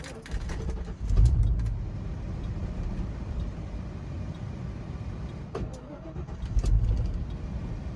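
A Foxbody Ford Mustang, an old project car stalled in the street, cranks over and over without firing, the starter churning steadily at close range with brief louder surges.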